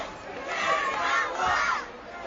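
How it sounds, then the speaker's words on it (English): A large wrestling crowd chants "Kerry's number one" in rhythmic surging waves, voices rising and falling together, heard from a distance in a big arena. "And you hear the crowd chanting, Kerry's number one."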